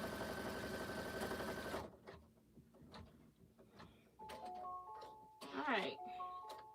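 A sewing machine stitches over a fabric pocket, a fast rhythmic whir running loud for about two seconds before stopping, followed by quieter clicks and a few chiming tones.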